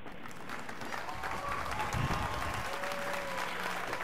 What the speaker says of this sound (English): give it a round of applause of Kenny,